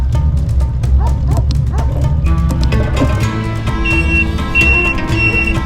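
A dog barks several times in quick succession nearby, with whimpers mixed in, over a constant low rumble of traffic or wind.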